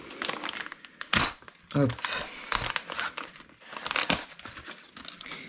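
Plastic packaging of RC car parts for an Xray XT8e buggy crinkles and tears in repeated close bursts as it is unwrapped, with someone talking over the rustling.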